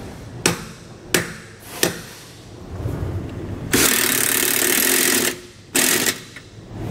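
An impact wrench runs a nut down onto a wet bolt while installing MORryde rubber equalizers on a tandem axle trailer. Three short sharp bursts come first, then a sustained loud rattling run and one more burst, close up with no talk.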